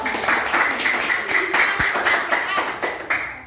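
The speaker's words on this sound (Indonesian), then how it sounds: "Kelompok Al-Muqtadir, tepuk tangan dulu dong." An Indonesian school class applauds a student group, giving steady rhythmic clapping in unison that stays loud and close for the whole stretch, with a voice faintly underneath.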